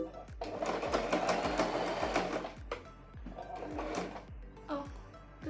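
A new sewing machine stitches a mini skirt in rapid, steady mechanical bursts with a regular thumping needle rhythm, pausing briefly before starting again, close and fairly loud.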